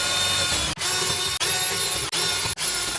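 A power drill fitted with a 6mm bit bores holes through wood for an upholstered window seat, a steady high whine in four bursts separated by brief pauses.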